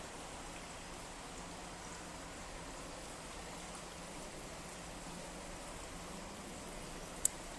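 Water running from an outdoor shower at a pool area, a faint, even hiss of falling water that continues unbroken, with one sharp click near the end.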